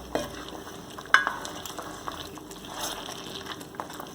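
Vegetables (onions, Irish potato, carrot, scallion, thyme and garlic) are stirred into a pot of Jamaican curry chicken feet, with a soft simmering sizzle and a few clanks and scrapes of the spoon against the pot.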